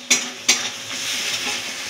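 Nigella seeds and garlic frying in hot oil in a pan give off a steady, close sizzle, opened by two sharp utensil clinks.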